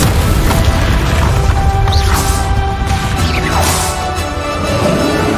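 Incendio fire spell bursts in Hogwarts Legacy, loud booming whooshes and crashes layered with other spell impacts and combat effects, dense and continuous with no talking.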